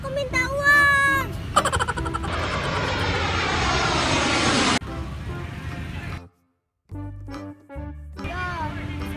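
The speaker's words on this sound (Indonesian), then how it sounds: "Ya, pesawatnya pergi." An airplane engine roars overhead, loud and steady for several seconds before cutting off, with a voice and other sounds around it.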